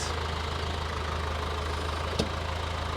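A dumper trailer's engine runs steadily at full throttle, a continuous close drone with a low rumble and one brief knock near the end, with no speech.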